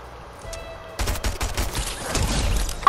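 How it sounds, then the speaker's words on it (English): Rapid harpoon gun shots in Fortnite, a dense burst of loud gunfire bursts erupting after a quieter opening second and continuing to the end. "I killed him with a harpoon gun"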